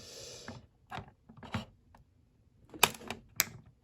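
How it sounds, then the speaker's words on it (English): Sharp snipping clicks of scissors cutting toy packaging come in short irregular bursts, close by, with brief quiet gaps between cuts. "I'll use these scissors first."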